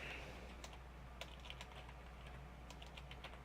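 Quiet typing on a computer keyboard while writing Java code, irregular soft clicks scattered at moderate pace under a low steady hum.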